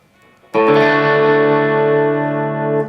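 Les Paul Junior electric guitar with the volume at 9, a single loud strummed chord ringing out sustained and thick, slightly gritty on the edge of breakup, held for over two seconds with no talking.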